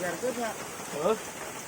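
Heavy rain falls outdoors under sunshine, a steady close hiss of drops that runs through the whole moment while someone talks over it.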